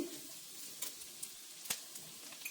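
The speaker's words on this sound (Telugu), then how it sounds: "ఆనియన్స్ క్యారెట్ వేసుకుని కాసేపు ఫ్రై అవనిద్దాం" Onions and carrots frying in a pan for street-style egg noodles, a faint steady sizzle with a few small clicks and stirring taps, heard alone without talk.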